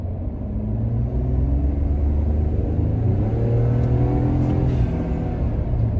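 Ford F150 2.7 engine fitted with a VTA mod, heard from inside the cab while accelerating at about half pedal from roughly 30 mph; a loud, steady deep rumble with rising drone and no talking.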